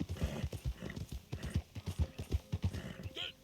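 Steady clip-clop of horse hooves in a paintball video game, a quick run of light, evenly spaced hoof strikes, with a brief high whinny-like chirp near the end.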